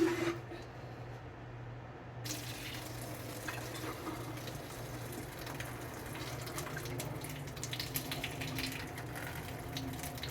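Cooked spinach and artichoke ravioli are drained in a strainer pot, a soft continuous rush of pouring water running steadily for several seconds at low volume.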